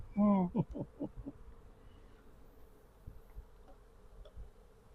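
A swarm of honey bees in the first swarm of the season, heard as a faint, steady buzzing drone in the background after a brief burst of louder sound at the start.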